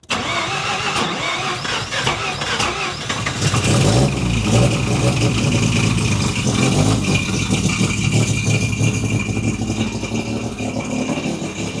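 A rotary engine cranks and catches, then settles into a rough, buzzy idle with rattling and a few throttle blips, close and loud throughout.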